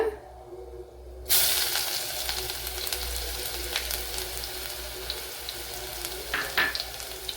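Crushed garlic and ginger hit hot oil in a pan with a sudden burst of sizzling, then a steady close frying hiss marked by occasional stirring sounds.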